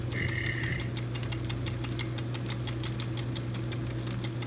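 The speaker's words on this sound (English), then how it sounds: "Just had to beat the eggs just a little bit more." Eggs are beaten for a breakfast casserole, a fast steady rhythmic ticking that repeats evenly over a constant low hum, close and fairly loud, with no talking.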